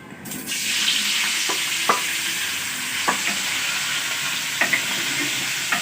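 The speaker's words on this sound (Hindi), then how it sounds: "आलू को जी मैंने अच्छी तरह बॉयल किया है और चम्मच के साथ अच्छी तरह मैश भी करते जाएंगे और साथ में इनको फ्राई भी करते जाएंगे" Boiled potatoes frying in hot oil in a pan while a spoon mashes them, making a continuous sizzling hiss broken by several distinct scraping knocks, close and fairly loud, with no talking.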